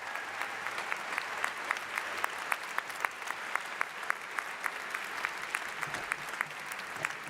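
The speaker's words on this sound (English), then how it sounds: "Please give them also a huge round of applause." Audience applause at a Global BBA commencement day graduation ceremony, a steady even patter of many hands clapping with sharp individual claps standing out, moderately distant and continuing for the full stretch without talk.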